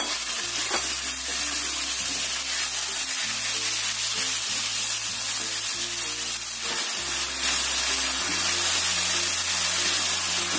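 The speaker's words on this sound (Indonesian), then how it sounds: "kita masukkan daging ayamnya. Kita tumis sampai hampir matang" Chicken pieces stir-fry with ginger in a hot pan, giving a continuous loud sizzle and hiss broken by repeated stirring scrapes, with no talking.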